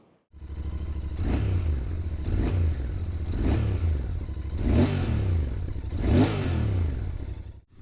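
A Royal Enfield Interceptor 650 twin-cylinder engine while riding, running through repeated rev surges and gear changes with a steady low thrum, close and loud, with rising and falling pulls about every second and a half and no talking.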